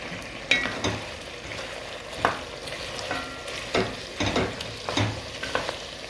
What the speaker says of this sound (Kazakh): пиязымызды турап салып, тағы бір 10 минуттай қуыратын боламыз